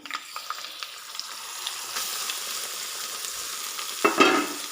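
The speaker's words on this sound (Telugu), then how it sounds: "మంట తగ్గించుకొని, మంట పెట్టకుండా ఇంకా వేయించుకోవాలండి." Nalleru stalk chutney frying in a pan while being stirred, a continuous close sizzle with soft scraping strokes and a louder clatter near the end, no voices.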